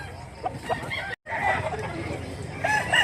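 Stag chickens offered for sale at a Cebu market. Roosters crow and cluck close by in a busy outdoor setting, with voices chattering in the background throughout.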